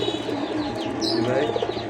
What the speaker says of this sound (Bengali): এটাও দিচ্ছে নর কবুতর